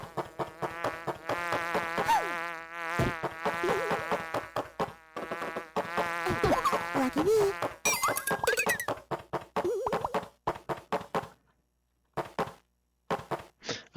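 Persistent buzzing drones of bees in the DOS game Drilling Billy, with squeaky electronic game sounds and rhythmic clicks, the buzz cutting in and out before falling silent near the end.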